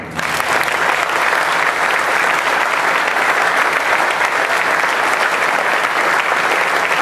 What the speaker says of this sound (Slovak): ak máte chuť sa odmeniť aspoň potleskom týmto ľuďom